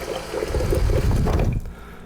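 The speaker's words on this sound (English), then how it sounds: "Getting nice water pressure." Water gushes from a refrigerator door dispenser with a newly replaced filter into a jar, a steady close pour with a gurgling low rush that cuts off abruptly after about a second and a half.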